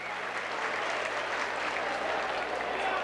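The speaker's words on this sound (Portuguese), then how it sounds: "É aplaudido o jogador César." A packed stadium crowd applauds a goalscoring player during a 1995 Paulistão A2 football match between Botafogo and São José at Estádio Santa Cruz, a steady dense roar of clapping that stays loud and unbroken throughout.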